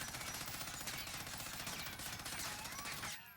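Sustained automatic fire from a Cold War gun fitted with a Microflex LED sight in Warzone rattles fast and evenly for about three seconds, then cuts off sharply into quiet.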